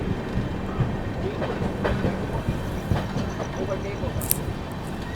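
Vikramshila Express passenger train rolling slowly onto a loop line, a steady rumble of wheels over rail joints with faint clatter and scattered clanks, heard from on board with some voices in the background.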